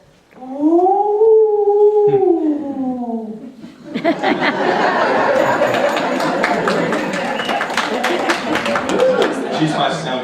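A voice imitates a whooshing sound coming down a chimney, a rising-and-falling howl-like wail lasting about three seconds, followed by laughter and lively chatter from a group of people.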